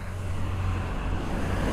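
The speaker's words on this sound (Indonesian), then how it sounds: "Ada truk lewat ini" A coal-hauling truck drives past on a road near the Kideco bridge in Tanah Grogot, giving a steady, loud low engine rumble and road noise that holds throughout without talk.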